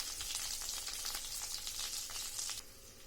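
Butter melts over a low flame in a pan for homemade ghee, giving a steady bright sizzle and crackle with faint stirring, close and continuous before easing slightly near the end.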